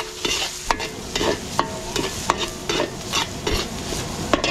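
Ginger, garlic and onion are stir-fried for catering, with a soft sizzle under repeated sharp scrapes and clacks of a utensil against the pan at an irregular rhythm.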